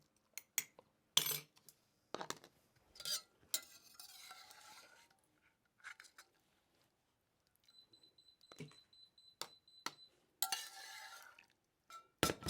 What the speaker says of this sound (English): Let's get a spoon, and you want to pack them down.